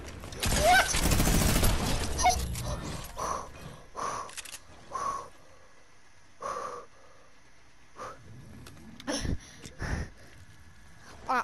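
Burst of gunfire and a rocket explosion in a Fortnite match, a loud dense blast up front followed by scattered sharp shots and impacts trailing off.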